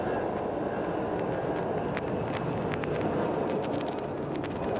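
A Boeing 737 taking off at Phoenix Sky Harbor Airport, heard as a loud, steady jet engine roar with a broad rumbling drone that holds constant, with scattered sharp clicks and no talking.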